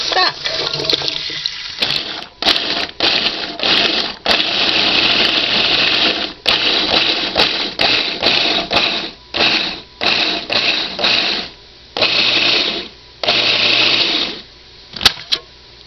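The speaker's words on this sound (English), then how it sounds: "we'll put that in the food processor and give that a grind as well" A food processor grinding vegetables for hamburger soup stock, a loud whirring motor running in repeated pulses of a second or two with short gaps, closely miked and with no talking.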